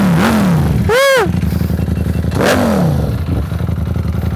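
A Ducati Panigale V4S with an Austin Racing exhaust and dry clutch gives two sharp throttle blips that swell and fall, separated by a rattling, clattering idle that stays close and loud.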